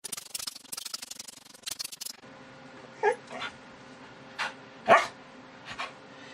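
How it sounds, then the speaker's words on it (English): A dog barks and whimpers indoors, a burst of rapid barking at first, then a few separate whines and yips spaced apart over quiet background. "don't want to hear you barking"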